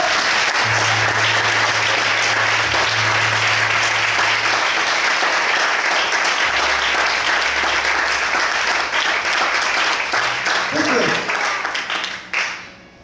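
A church congregation applauds loudly and continuously, with a low tone underneath at times, before the clapping fades out near the end.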